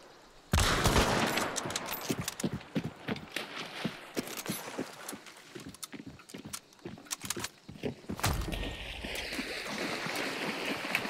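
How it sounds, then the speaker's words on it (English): Gunshots crack in Hunt: Showdown, a string of sharp, loud reports in irregular rhythm with echoing tails, followed by a sustained noisy rush near the end, without talk. "I'm cracking off some shots, popping heads."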